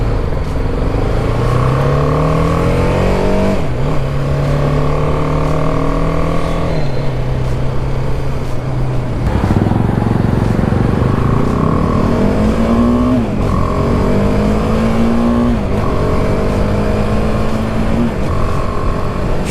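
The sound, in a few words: BMW G310R motorcycle engine revving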